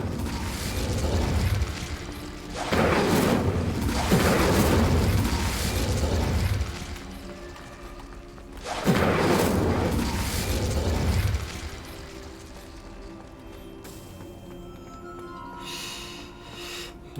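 An Incendio fire spell cast in a video game, with heavy rumbling booms swelling and fading twice, loud and close, then a quieter lingering mechanical hum.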